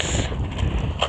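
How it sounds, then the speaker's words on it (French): Strong wind buffets a microphone outdoors during a scooter ride, giving a loud, low rumbling roar with irregular gusty surges over the whole brief moment. "Oh mon dieu le vent."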